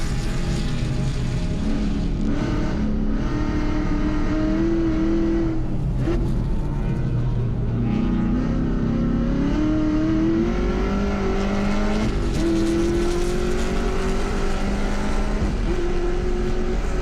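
A race car laps the Road Atlanta circuit during a time attack event, its engine droning loud and steady with rising and falling pitch through shifts and corners, heard continuously from close by.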